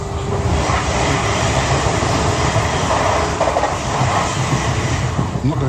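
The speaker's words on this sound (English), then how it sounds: "I'm on the train." Steady rumble of a passenger train in motion, heard from inside the carriage on a Saturday in October, with continuous broadband rolling noise and faint clickety-clack of wheels over rail joints throughout, no talking.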